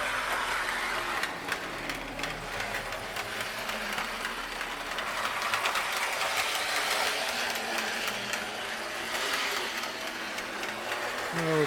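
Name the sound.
Marx O-27 toy train engine running on layout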